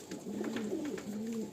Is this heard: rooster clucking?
no